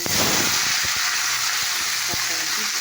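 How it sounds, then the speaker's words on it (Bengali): Chili tempering sizzles loudly in hot oil, a dense continuous frying hiss with a few soft clicks of stirring, close and steady throughout. "দেখতে পাচ্ছি এখানে লঙ্কা ফোড়ন দিয়ে দিলাম"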